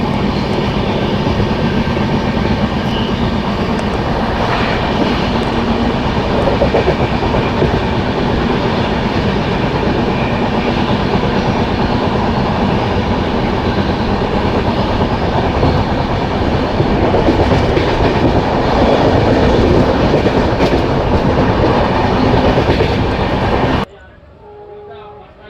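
Uttarbanga Express rolling steadily along the rails in a dense, continuous rumble with rhythmic clickety-clack, heard from inside the carriage for most of the stretch before cutting to a quieter interior near the end.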